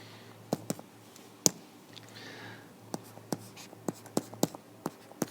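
A pen writes chemical formulas on paper, with quiet scratchy strokes and sharp taps as the pen meets the page at an uneven pace, close and soft, with no talking.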